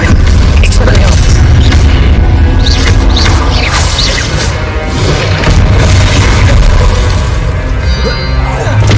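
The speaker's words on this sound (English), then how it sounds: "Expelliarmus!" Expelliarmus spell blasts in Hogwarts Legacy combat, a sustained loud barrage of booms, crashing impacts and shattering debris that continues steadily for several seconds.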